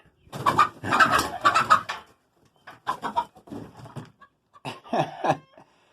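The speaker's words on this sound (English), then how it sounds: "So these chickens are afraid of me. They want to get out of here." Chickens cluck and squawk nervously inside a chicken house, several loud, close bursts of agitated calls separated by short quiet gaps.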